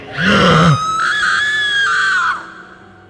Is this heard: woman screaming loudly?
yes